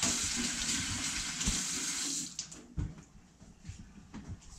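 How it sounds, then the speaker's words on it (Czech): Tap water runs steadily into a kitchen sink for about two seconds as hands are rinsed, then stops, leaving soft clatter and handling sounds nearby while a fish soup is being prepared. "Tak, opláchnu si ruce."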